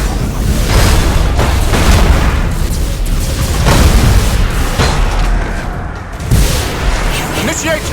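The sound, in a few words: Thunderhawk bombardment explosions in the video game Battlefleet Gothic Armada 2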